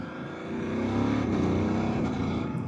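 A BMW F800 GS motorcycle with its stock exhaust pulls away while riding, the engine rising into a steady throaty drone heard up close from the rider's position.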